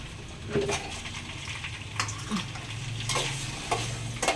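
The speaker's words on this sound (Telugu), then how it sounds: "ఇదిగోండి పన్నీర్ ముక్కలు కొంచెం నేతిలోను లైట్గా ఫ్రై చేస్తాను, బాగుంటుంది." Paneer pieces fry lightly in ghee in a pan, a soft, low sizzle broken by several sharp clicks and scrapes of a spatula turning them, fairly quiet and close with no speech.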